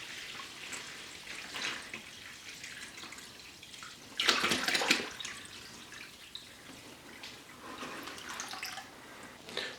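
A gallon of liquid pours into a container in one brief splashing gush, surrounded by faint trickles and drips in a quiet room.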